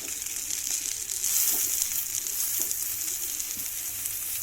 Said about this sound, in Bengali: পেঁয়াজটা লাল লাল করে ভেজে নিয়েছি এবার দিয়ে দেবো টমেটো কুচানো